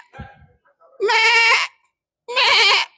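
A human voice imitates a baby goat bleating, giving two long, loud, nasal bleats separated by a pause, preceded by a few faint low murmurs.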